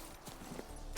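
Roach, a horse in The Witcher 3, trots along with a few soft hoof clip-clops spaced across a short stretch over steady background ambience.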